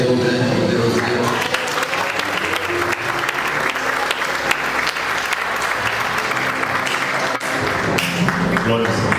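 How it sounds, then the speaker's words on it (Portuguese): A church congregation applauds loudly and continuously, dense clapping filling the room for several seconds with a few voices mixed in. "Você pode aplaudir o Senhor, o grande poderoso Deus."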